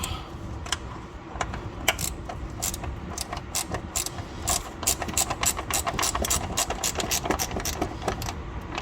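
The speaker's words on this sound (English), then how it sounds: "Got a ratchet wrenches, which make your life 10 times easier. And I'm already starting to take it out." A ratchet wrench clicks rapidly and steadily as it removes suspension bolts from a Lexus GS430, a close, continuous mechanical ratcheting over a low background rumble, with no talk.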